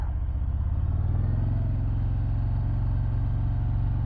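Harley-Davidson Breakout 117 motorcycle, a 2024 model, idling with a deep, steady, loping V-twin rumble that stays close and even throughout, with no voices over it.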